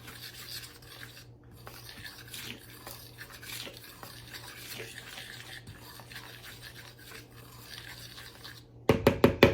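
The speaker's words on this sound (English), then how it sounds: "now I'm going to mix this up" Cookie ingredients are mixed in a bowl, giving a steady, soft scraping and stirring rustle throughout, then a burst of sharper rhythmic clinks at the end.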